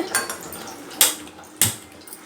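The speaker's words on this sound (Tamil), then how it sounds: "ஆப்பத்துக்கு கடாய் வச்சாச்சம்மா எங்கக்கிட்ட வந்து இந்த நான்ஸ்டிக் நான்ஸ்டிக்கு அந்த இந்த கடாய் தான் இருக்குது" A non-stick kadai set down on a lit stove for making appam, giving two sharp metallic clanks about half a second apart over a faint kitchen background hiss.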